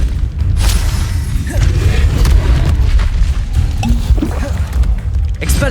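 Booming fire-spell blasts in the wizarding game Hogwarts Legacy, repeated heavy explosions and thuds over a dense rumbling battle backdrop, with a voice heard now and then.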